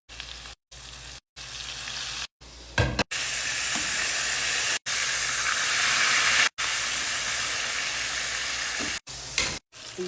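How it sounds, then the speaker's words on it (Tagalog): Milkfish (bangus) frying in hot oil, a loud steady sizzle and hiss broken by several abrupt cuts, with a brief clatter of stirring partway through. "Maglalagay tayo ng oil. Prito na natin yung mga bangus."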